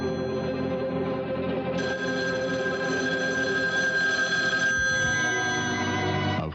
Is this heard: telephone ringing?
yes